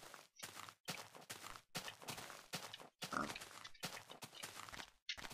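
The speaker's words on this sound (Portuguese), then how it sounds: "Porcos, galinha e porcos." Repeated short, rough grunts in quick bursts with brief pauses, close and fairly loud, like pigs snorting in Minecraft.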